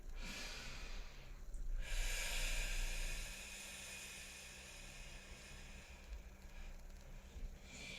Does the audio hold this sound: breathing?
yes